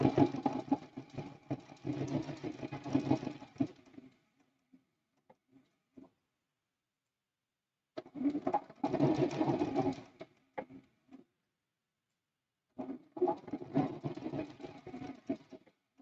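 A sewing machine stitches quilting on a Christmas quilt block in three separate runs of steady, rapid mechanical whirring, each several seconds long and separated by quiet pauses with a few faint clicks.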